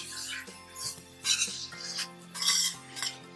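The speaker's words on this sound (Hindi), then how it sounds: "गैस की फ्लेम हम धीरे रखेंगे और इसको अच्छे से मिक्स करेंगे" A spoon stirs grated carrots in a pan over a low gas flame for sugar-free carrot halwa, making a run of short scraping and rustling bursts with light metallic contact, close and fairly quiet, with a faint steady hum underneath.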